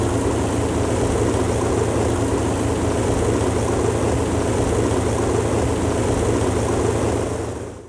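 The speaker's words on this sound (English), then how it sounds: "the incredible sound of the Lancaster engine startup is very rare" Lancaster bomber engine running after startup, a loud, steady, deep propeller drone with a constant throbbing rumble that holds throughout and tapers slightly at the very end.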